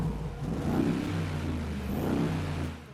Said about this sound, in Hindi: अभी आपको इसका एग्जॉस्ट नोट चेक करवाते हैं।